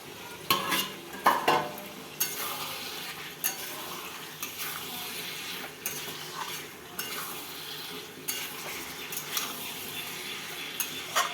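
Chicken pieces stirred and fried in a pan, with steady sizzling under repeated scraping and clinking strokes of a utensil against the pan, close and moderately loud throughout.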